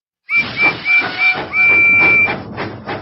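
A steam train whistle in a video game toots several short blasts, then one long sustained blast, over a hissing puff of steam.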